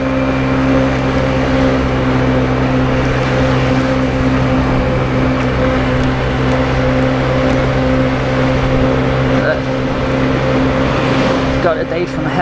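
A Honda Zoomer scooter engine drones steadily while being ridden on a road after its MOT. The engine is close and loud, holding a fairly constant pitch under rushing wind noise.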